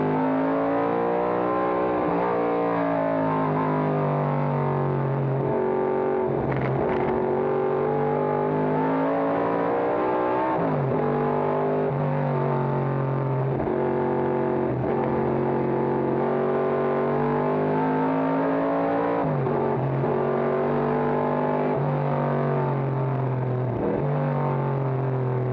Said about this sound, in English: So it's Mustang, Javelin, Mustang as they went by us.